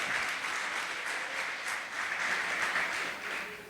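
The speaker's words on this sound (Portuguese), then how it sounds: "você pode aplaudir o nome do Senhor" A church congregation applauding the name of the Lord, dense sustained clapping from a large crowd filling the whole stretch at an even level, without speech on top.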